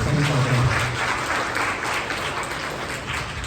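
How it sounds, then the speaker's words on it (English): An audience at a Year 6 school graduation ceremony gives a steady, full round of applause for a local business, loud and sustained throughout with no break. "So a round of applause for our great business"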